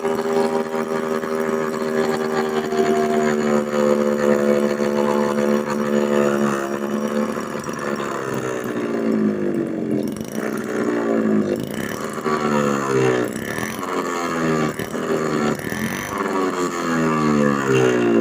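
A small mini two-stroke engine runs on petrol indoors with a buzzy, whining drone, its pitch rising and falling as the throttle is blipped repeatedly.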